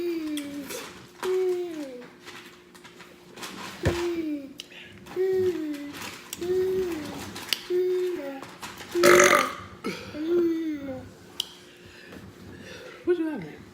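Repeated burps at a seafood boil, a string of deep, drawn-out belches coming every second or so, close to the mic, with a sharp smacking click partway through.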